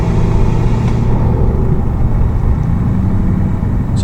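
A Ford 6.7 Powerstroke pickup holds about 1,900 RPM in fourth gear, giving a steady, loud, close engine and road rumble with no talk.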